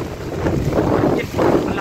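Strong Typhoon Odette wind in Saint Bernard, Southern Leyte, roars loudly and continuously, surging in heavy gusts with a howling edge throughout.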